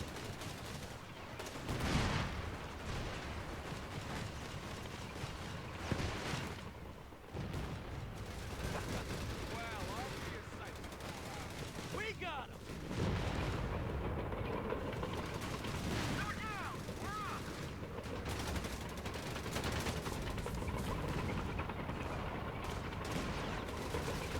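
Cannon fire and gunfire from the World War II real-time strategy game Company of Heroes, with bursts of shots and heavier booms scattered over continuous battle noise, fairly faint under occasional talk.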